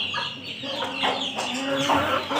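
An Aseel hen clucks several times at close range in short throaty calls, with faint background noise and no talking.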